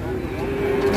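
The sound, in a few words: raging cattle mooing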